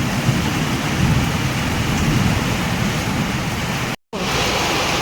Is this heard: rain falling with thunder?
yes